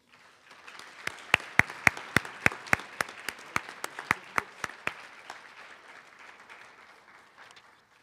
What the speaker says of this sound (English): we want to still give her a round of applause